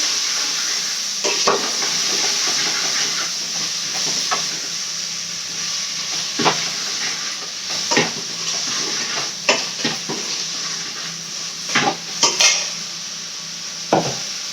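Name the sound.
radish and okra vegetables sautéing in pan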